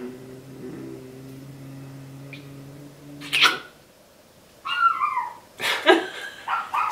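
A jealous pet dog barks and whines from a back room, beginning with drawn-out whimpering tones, then after a brief pause giving several sharp, loud barks and yips in quick bursts, with no talking.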